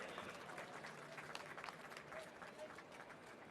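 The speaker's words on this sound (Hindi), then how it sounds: "दर्शकों से अनुरोध है, जोरदार तालियों से इस पल को अविस्मरणीय बनाएं।" Sustained applause from a large crowd at a Telangana Liberation Day ceremony, as a memento is presented to the chief guest, dense steady clapping throughout.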